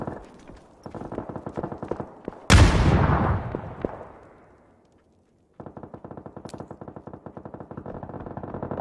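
Gunfire in the battle royale video game PUBG: rapid automatic bursts, then a loud close blast that decays over a couple of seconds, a brief silence, and more sustained rapid shooting, with no talking.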